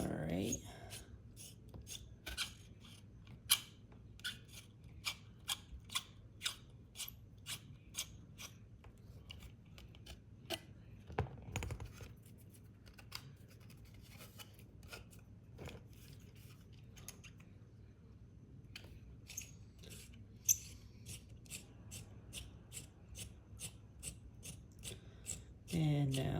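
Rapid, rasping cuts and filing on a Polar Lights 1/1000 NX-class refit plastic model as the portside windows are opened, steady close scraping broken by sharp clicks and ticks, with a low hum underneath.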